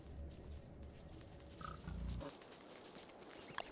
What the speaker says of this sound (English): Let me just get these pigs off me